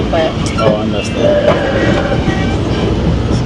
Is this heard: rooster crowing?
no